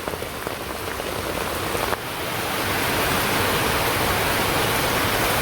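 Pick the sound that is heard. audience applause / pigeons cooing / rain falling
rain falling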